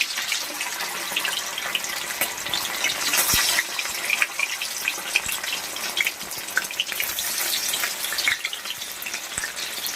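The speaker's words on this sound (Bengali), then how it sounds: "ব্যাটারে যে ডিমটাকে ডুবিয়ে ফোড়ন দিয়ে দিলাম পনির যেমন করে ভাজে সেরকমভাবেই ভেজে নেবো" A batter-coated egg deep-frying in hot oil gives a steady, close, bright sizzle with crackling pops throughout, with no voices.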